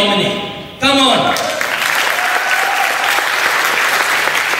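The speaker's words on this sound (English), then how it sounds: "I want you all to give yourselves a round of applause for living in harmony." Comedy club audience breaks into loud, sustained applause right after a comedian's voice, the clapping filling the room and holding steady to the end.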